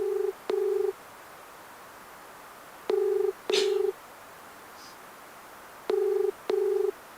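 An unanswered phone call gives a ringback tone: three evenly spaced double rings, each pair of thin electronic beeps clear but fairly quiet, with near silence between them.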